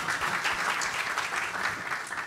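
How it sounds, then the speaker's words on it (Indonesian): Church congregation at an anniversary service in Yogyakarta applauding, a dense, even wash of many hands clapping together that carries steadily through the short stretch. "Tepuk tangan buat Bapak Ibu semua."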